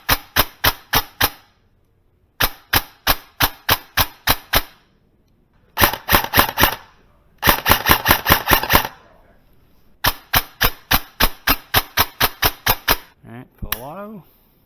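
An E&L AK airsoft electric gun on an 11.1 battery fires 3.2 gram BBs in semi-auto, a loud close series of sharp snapping shots in quick bursts separated by short pauses.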